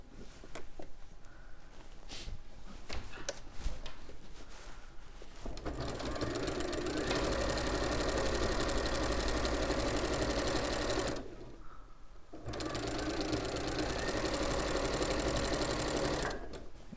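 A sewing machine runs at a steady, loud whir as it stitches quilt binding, with a short pause midway before the stitching resumes at full speed.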